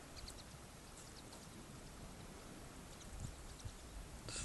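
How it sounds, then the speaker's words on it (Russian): Steady broadband wash of surf and waves along the seafront at Andreevka, Crimea, on an August morning, continuous and moderately distant, with no talking. "Слышен шум моря."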